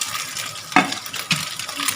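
Fish fries in a pan at home, a soft steady sizzle with a couple of brief stirring scrapes, close by and fairly quiet.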